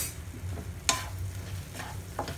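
Oats and fried paneer cook in a pan, giving a low, steady sizzle with a few soft stirring scrapes and one sharper clink near the middle.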